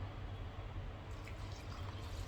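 Hot water poured over boiled rice to soak it, a steady, faint trickling splash running throughout with no voices.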